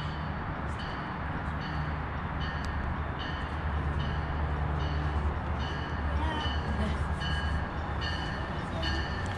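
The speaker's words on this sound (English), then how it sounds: "here it is as it sneaks on up with us with the MARC" A MARC commuter train led by locomotive 7856 arrives at Saint Denis station in Halethorpe, Maryland, giving a steady rumbling roar with faint repeated high squeals, close and continuous throughout.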